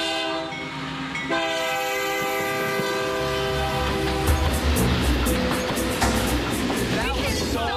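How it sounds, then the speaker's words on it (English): A train roars past nearby, its horn blaring in long sustained tones before the rumble and rattle of cars take over, loud and close. "that train just came barreling down"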